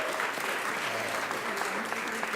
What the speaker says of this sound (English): Can we give them a round of applause first and foremost